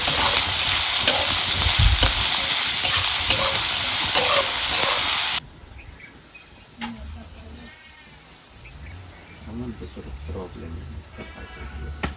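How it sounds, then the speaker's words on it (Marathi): Chopped onion frying in oil in a kadhai for a village-style matki dal dish gives a loud, dense, steady sizzle for about five seconds, then cuts off abruptly to a much quieter background with faint scattered sounds. "कांदा आपला चांगला लाल भाजलेला आहे"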